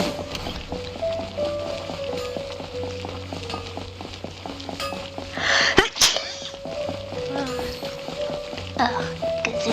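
A single sharp sneeze bursts out near the middle, loud and close, over Genshin Impact game background music with running footsteps and effects.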